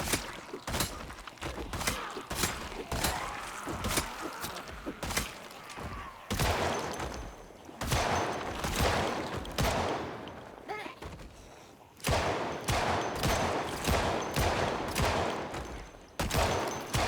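Rapid video-game gunfire rattles off in repeated bursts of sharp shots, with brief pauses between volleys, loud and close throughout.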